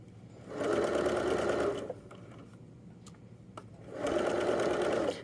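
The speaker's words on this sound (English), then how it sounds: "I'm going to stretch as I sew." A sewing machine stitches a jogger waistband in two steady bursts of even, rapid whirring, with a short pause between them filled with faint clicks and handling noise.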